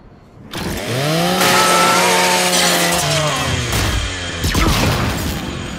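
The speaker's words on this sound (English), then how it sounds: "Just use your Lancer's chainsaw." In the Gears 5 game, a Lancer rifle's chainsaw bayonet revs up and grinds through a custodial robot unit. A loud, close motor whine rises in pitch, then holds and churns as it cuts.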